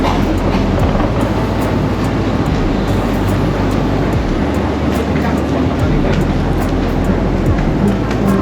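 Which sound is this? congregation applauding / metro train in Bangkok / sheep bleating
metro train in Bangkok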